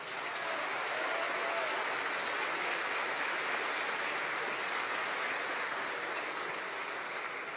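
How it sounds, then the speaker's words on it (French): Crowd at a national political convention applauds continuously, a thick, even wash of clapping from a large audience that holds steady throughout. "vous pouvez déjà l'applaudir,"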